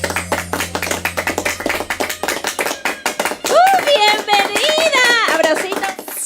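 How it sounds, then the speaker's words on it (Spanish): Audience claps for a singer walking onto a stage at a musical variety show, a dense patter of hands, with an excited host talking loudly over the latter half. "¡Los aplausos!"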